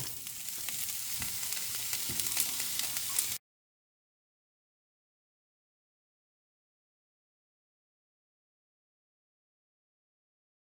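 A diced onion dropped into a hot pan as the flavor base for pea soup with pork hisses in a steady, close sizzle for about three seconds before cutting to silence.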